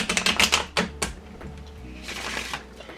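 Tarot cards are shuffled close by: a rapid, clattering riffle of crisp card snaps at the start, then a softer, looser rustle of cards sliding together.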